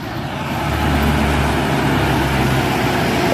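Buses and minibuses, including Toba Trans and Beta Hamu coaches, climbing Bukit Kodok hill, a steady heavy diesel engine drone that swells after the first second and holds at a loud, close level, with no voices.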